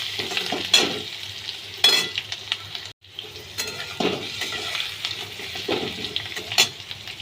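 Fried pointed gourd and potato are stirred in a hot frying pan with a sizzle, and a spatula scrapes and clinks against the metal several times. One break of near silence falls midway, with no talk.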